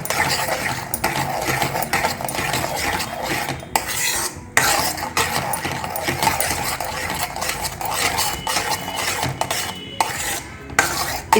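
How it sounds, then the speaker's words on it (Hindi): A spoon stirs mawa (milk solids) round and round in a pan over medium-high gas for gujiya, giving a steady, close scraping and clinking that runs continuously without pause and with no talking. "इसको राउंड टू राउंड चलाते रहेंगे"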